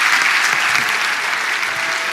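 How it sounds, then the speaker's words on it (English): Loud audience applause at a live interview event, a dense, continuous clatter of many hands clapping together throughout, with no voices standing out. "Everybody please give Jack and Aisha a big round of applause."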